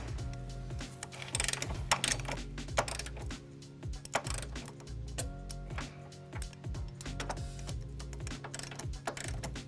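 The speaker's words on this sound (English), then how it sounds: "we're gonna go ahead and torque them down. I'm using a torque wrench with a 5-inch extension and a 17-millimeter socket." A torque wrench with a 5-inch extension and a 17 mm socket tightens trailer hitch bolts on a 2006 Hyundai Tucson, giving repeated close ratcheting clicks in quick bursts over a low steady background hum.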